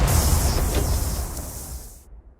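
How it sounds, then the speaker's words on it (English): A redesigned explosion effect for the video game Hyper Light Breaker rolls out as a loud, dense rumbling boom, with a bright crackling wash on top that sustains and then cuts off abruptly near the end. "And then all the rest of the explosion sound."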